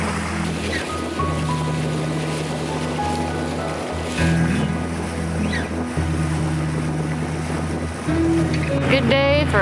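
A sailboat motor-sails on the open sea, its engine droning steadily beneath the rush of water and wind against the hull, a continuous loud wash with a few brief higher tones near the end.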